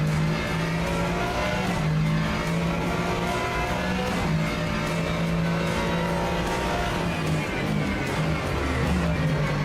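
A Mustang GT3 race car engine in the Rennsport racing game drones at high revs, pitch rising and falling through gear changes, loud and continuous with a few tyre-squeal moments.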